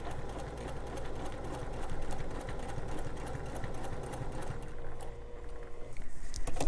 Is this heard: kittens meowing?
no